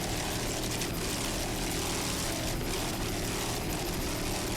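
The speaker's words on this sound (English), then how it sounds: "Great throttling there by Gene Weeks from Reddington Shore, Florida" Offshore powerboat racing engines at a Buffalo grand prix, a loud continuous roar with droning throttling surges, heard from a distance under constant wind-like noise.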